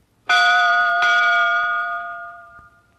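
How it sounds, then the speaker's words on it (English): A single bright bell chime rings out clearly, struck twice in quick succession, its tone ringing on and slowly fading away. "You will know it is time to turn the page when you hear Scuffy's bell ring"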